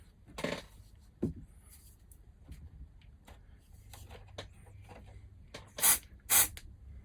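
Two short, sharp hissing bursts of activator sprayed onto glue on a 1:84 scale Santisima Trinidad ship model, close and loud near the end, after quieter handling clicks on a workbench.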